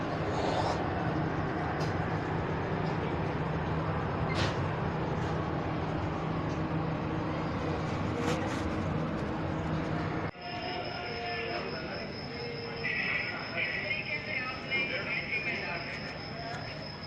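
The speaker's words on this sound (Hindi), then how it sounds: "सामने से जाफर एक्सप्रेस डाउन आ रही है रोडी पर" Jaffar Express pulling into Rohri railway station, a steady loud rumble of wheels and carriages rolling past close by for the whole span, the tone shifting partway through, with station noise and voices in the background.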